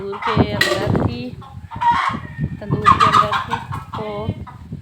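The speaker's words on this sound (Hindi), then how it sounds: "ये मुर्गी बहुत चीख रही है" A chicken squawks loudly and repeatedly in a village yard after the old tandoor it was inside was knocked down; the shrill, close cries come in bursts.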